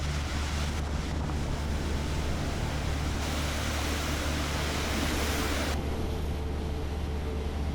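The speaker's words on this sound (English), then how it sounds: "The wind starts to blow. The sea will come up and washes the salt" Sea waves and gusting wind at the Xwejni salt pans on the Maltese coast, a steady, dense broadband rush of surf and wind buffeting that fills the whole stretch with no voices.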